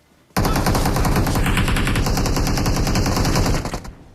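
A loud, rapid burst of automatic gunfire from the mobile battle royale game BGMI fires continuously for about three seconds, then cuts off abruptly. No one talks.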